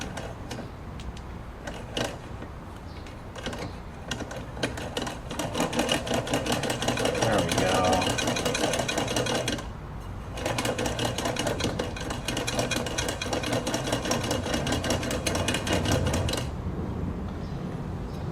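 A Muller Model 12 chain stitch sewing machine runs in a steady, fast mechanical clatter, pausing briefly midway before starting up again, with someone talking over the running machine.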